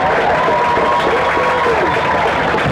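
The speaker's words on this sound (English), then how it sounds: "can we please all give another round of applause for tonight's homecoming candidates." A stadium crowd at a high school football game applauds and cheers for homecoming candidates, a continuous loud wash of clapping and crowd noise with some voices mixed in.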